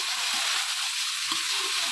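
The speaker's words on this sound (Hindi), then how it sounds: "गोभी को अच्छी तरह से घी में फ्राई कर लेंगे" Cauliflower frying in ghee for gobi gosht, a steady soft hiss of oil with faint stirring scrapes, fairly close and continuous with no voices.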